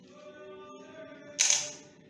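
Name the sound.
Canon EOS 60D DSLR shutter firing at slow shutter speed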